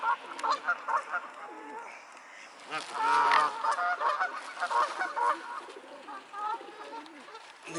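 Swans gathered at a pond keep up a clamour of honking, many calls overlapping and rising to a louder burst midway before continuing in quicker, choppy bursts.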